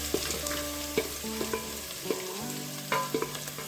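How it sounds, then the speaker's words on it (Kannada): Chopped onions fry with dried red chilies in a pan for Kerala-style palappam curry, a soft sizzle broken by scraping and clinking strokes of a stirring spoon. "ಈರುಳ್ಳಿ ಕೆಂಪಗಾಗೋರಿಗೆ ಹುರ್ಕೊಳ್ಳೋಣ"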